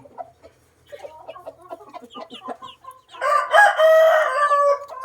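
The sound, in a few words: rooster crowing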